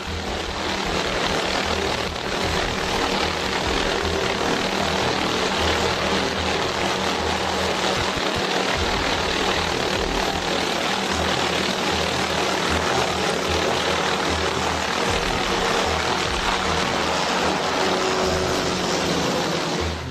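A helicopter on a rescue flight over icy, snowy mountain rocks gives a loud, steady engine and rotor roar that fills the whole stretch without a break and with no voices.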